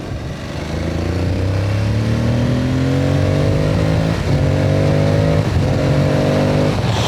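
Aprilia Tuareg 660 motorcycle on a test ride, its engine droning loud and close with steady rising pitch through the gears, under continuous wind and road noise.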